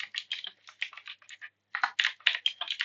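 Brisk typing on a computer keyboard, dense clusters of crisp key clicks with a short pause partway through before another rapid run, close and clear with no voices.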